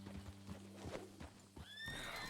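A horse in the video game Red Dead Redemption 2 gives a rising, trembling neigh near the end, after a run of hoof clip-clops and low snorting, close and fairly loud with no talk over it.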